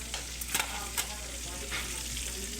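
Food frying in a pan, a steady soft sizzle with a few sharp scraping or stirring knocks early on, heard alone at moderate distance.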